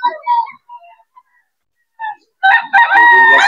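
A rooster crows nearby at a gamefowl market in Bocaue, loud and close, with other fowl calls and brief clucks around it.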